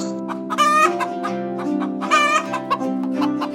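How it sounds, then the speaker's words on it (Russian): A chicken perched on a thatched roof clucks close by, with two louder drawn-out calls rising over a steady low droning background. "Над дверью на соломенную крышу сгромоздилась курица."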